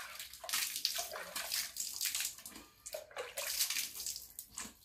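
Clear mountain spring water splashes and pours steadily in a rural highland village, a continuous bright rushing with uneven surges, close and fairly loud, with no voices.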